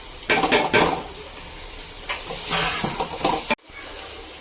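Sliced onions and ground cinnamon, clove and cardamom are tipped into a chicken biryani pot and stirred, making loud metallic scrapes and clatter over a steady sizzle. The sound cuts off abruptly near the end, and no one speaks.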